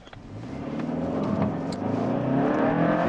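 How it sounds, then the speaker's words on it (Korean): A Hyundai Sonata N Line, 290 horsepower, accelerates hard from a standstill to 100 km/h in normal mode, its engine note climbing steadily and growing louder and nearer throughout the run. "노멀보다 한번 100km까지 가속을 해보겠습니다"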